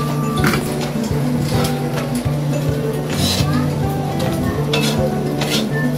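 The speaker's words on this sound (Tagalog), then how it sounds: "Haluin muna ulit natin." Food is stirred in a hot frying pan over a steady sizzle, with repeated clinks and scrapes of the utensil against the metal and a person talking throughout.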